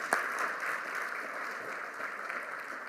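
A school district audience in a hall claps for recognized staff, a steady, moderately distant wash of applause that holds evenly for a few seconds without voices.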